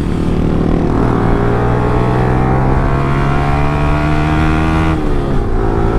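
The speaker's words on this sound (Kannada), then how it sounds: "ಗೇರ್ ಶಿಫ್ಟ್ ಒಂಥರ ಟಕ್ಕನ್ನ ಆಗ್ತಾಯಿದೆ, ಏನಕ್ಕೆ ಅಂತ ಗೊತ್ತಾಗ್ತಿಲ್ಲ" Car engine pulling hard and accelerating, loud and continuous, with an abrupt pitch drop near the end that marks a jerky gear shift; no voices.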